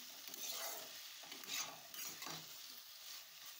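Beetroot in a pan being stirred with cumin, turmeric and salt for a prawn beetroot chorchori, making a quiet scraping sizzle with a few louder scrapes of the spoon in a loose rhythm.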